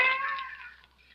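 A cat lets out a single drawn-out yowl in an old radio drama sound effect, loud at first and then trailing off over about a second.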